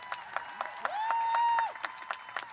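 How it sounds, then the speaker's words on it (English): The crowd at a 2021 Santa Maria graduation ceremony applauds the graduating class, with scattered claps and a sustained whistle rising over them partway through. "Can I get a round of applause for the class of 2021,"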